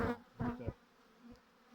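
Honey bees buzz around a hive during an autumn inspection in brief, close bursts, a few swelling hums fading back into quiet.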